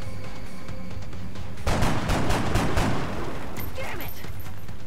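Gunfire from an assault soldier in the video game XCOM: Enemy Unknown: a loud, rapid burst of shots lasting over a second in the middle, set against steady game ambience before and after.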